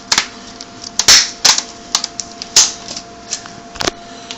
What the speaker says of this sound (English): So you go ahead and just clamp it all together like this.